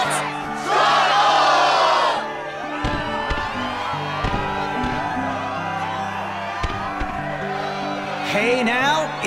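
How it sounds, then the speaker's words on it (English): In the Kingdom Hearts II game's Twilight Town arena, a loud crowd cheers and roars in bursts at the start and end, with game music and a voiced announcer talking in between. "Yes, the crowd is fired up, so you know what comes next!"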